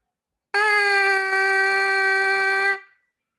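A lone trumpet mouthpiece buzzes a clean, focused sustained pitch with almost no breath noise, starting suddenly and holding steady and loud for a little over two seconds before stopping.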